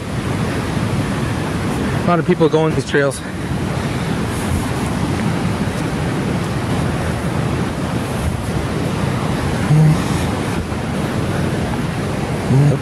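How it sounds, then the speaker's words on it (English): A rushing river waterfall at Duchesney Falls beside a trail, a loud, constant broadband roar of water with some wind noise, while a person briefly speaks over it. "It's a pretty crazy river. Or waterfall, or creek"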